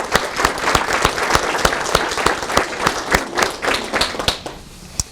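An audience at a Lancaster Fairfield County Chamber of Commerce event claps for a sponsor from Roof & Associates, a dense, steady indoor round of applause with sharp individual claps standing out near the end.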